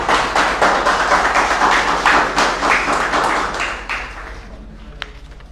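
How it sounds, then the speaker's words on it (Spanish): Crowd applause at a queen's proclamation and coronation ceremony in Urdaneta, dense steady clapping from a large audience that fades out near the end, leaving a low hum and one sharp tap. "Aplausos para nuestra nueva soberana."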